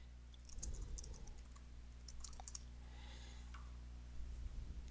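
Someone types a Microsoft account password on a computer keyboard, producing a short burst of quick, faint key clicks and taps close by in a quiet room with a low background hum.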